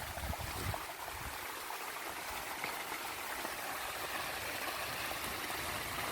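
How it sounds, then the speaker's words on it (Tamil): Farm irrigation channel carrying water to an elephant foot yam field, a steady broadband rushing and gurgling flow heard up close and continuous, with no voices. "தண்ணி போயிட்டுருக்கு"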